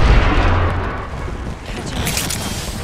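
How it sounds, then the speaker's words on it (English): A grenade blast in a shooter video game: a loud, booming low-frequency explosion at the start that rumbles and decays, followed by a sustained noisy wash of gunfire and effects, with a voice speaking over it. "Look out, grenade."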